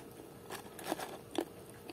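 Crunchy fried potato fries taken from the freezer are bitten and chewed up close, giving two sharp crisp crunches over soft background chewing noise, with no talking.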